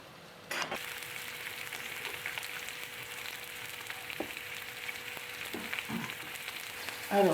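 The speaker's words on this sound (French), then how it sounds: "je les pose toutes une par une pour bien les faire saisir" Courgette pieces for ratatouille are laid one by one into a hot frying pan to sear, and a sudden steady sizzle starts. Small taps and shifts sound over the constant close-up frying hiss.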